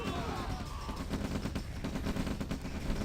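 Rapid volley of V2 rocket impacts in the OpenRA strategy game, a dense crackling barrage of repeated blasts and gunfire-like bursts running continuously for a few seconds at steady loudness.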